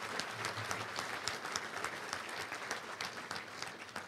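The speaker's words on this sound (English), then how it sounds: "Let's give a round of applause to Simmons and all of our great sponsors here today." Luncheon guests at a touchdown club meeting applaud the event's sponsors, a faint, distant patter of many hands clapping at an even rate for a few seconds.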